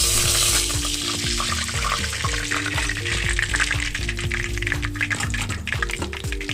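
Kashmiri chicken kebabs fry in hot oil, producing a steady, close crackling sizzle with dense popping and spitting throughout, and no voices.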